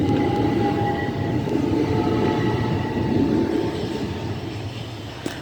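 A Class 375 electric train departs Sandling station for Ramsgate, a steady rumbling roll with a faint motor whine, close and continuous before easing slightly, with a sharp click near the end.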